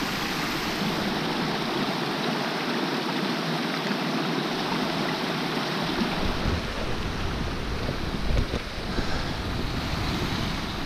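Dense, steady roar of stream water flowing at a crossing in Uttarakhand, loud and continuous throughout with some wind buffeting on the microphone.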